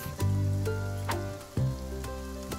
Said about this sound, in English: Wow, rain is pretty cool.